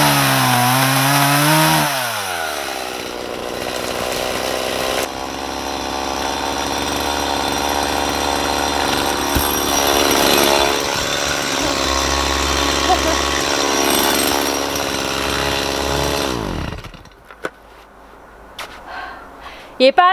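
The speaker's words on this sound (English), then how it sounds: "It's so much different cutting with a chainsaw that really cuts." A chainsaw cuts through wood, its engine roaring loud and close, with revving pitch swings, and then abruptly cuts out near the end, leaving faint knocks.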